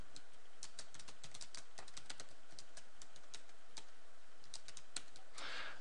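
Fingers tap out a city name on a computer keyboard in a rapid, uneven run of light clicks that pause briefly and resume, close and fairly quiet with no talking.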